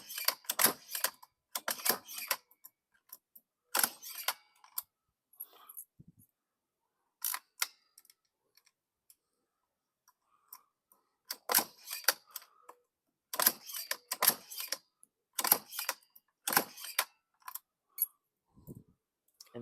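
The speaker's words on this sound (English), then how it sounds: "he's punching out keys" A key punch machine punching out duplicate keys in a locksmith's shop, sharp mechanical clicks and clacks in irregular bursts with quiet gaps between, close and fairly loud.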